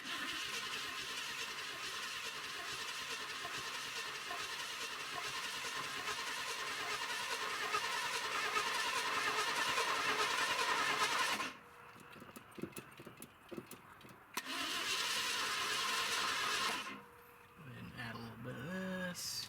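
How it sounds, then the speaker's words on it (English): An old Ford engine cranks over without ignition to prime the carburetor, giving a steady, continuous churning drone for about eleven seconds, then stopping, cranking again briefly and stopping. A voice can be heard in the background. "So now let's spin it over, prime the carburetor."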